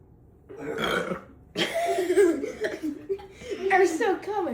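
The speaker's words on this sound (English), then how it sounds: "We both burped." Two people burping after chugging soda, with several loud throaty burps mixed with chuckles and laughter at close range.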